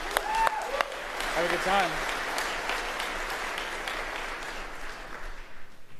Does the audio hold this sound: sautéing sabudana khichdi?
no